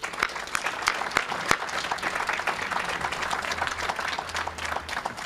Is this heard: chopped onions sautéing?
no